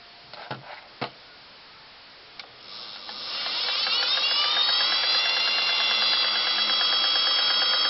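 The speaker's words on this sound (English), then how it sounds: "I'll just start off sewing a paper towel here just to see the stitch." A Singer 404 sewing machine stitches a paper towel. A few light clicks come first, then the motor spins up into a steady, close, humming whir with rapid needle ticking that continues to the end.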